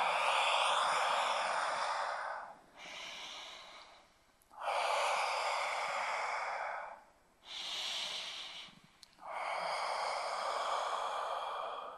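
Slow diaphragmatic breathing exercise: long, loud airy inhales and exhales alternate in an even rhythm, close to the microphone, with no talking.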